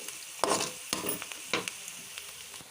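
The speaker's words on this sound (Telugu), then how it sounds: "ఈ ఫ్రై ఇవ్వాలి ఇలా ఫ్రై అయితే సరిపోతుంది" Chopped capsicum sizzles in a pan while it is fried for pav bhaji. A utensil stirs it in a few sharp, scraping strokes over a steady background hiss, with no speech.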